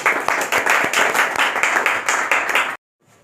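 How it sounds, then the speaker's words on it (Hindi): Dense, sustained applause from an audience at a poetry gathering in Lucknow, loud and steady for nearly three seconds before cutting off abruptly into near silence. "उनके सम्मान में आप सबकी जोरदार तालियां हो जाएं"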